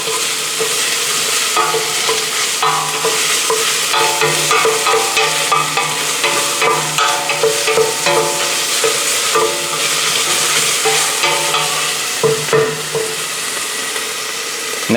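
Oil sizzles and pops in a pan while food is stirred and fried for lechon kawali and monggo, a loud, continuous crackle with scraping stirs, no voices.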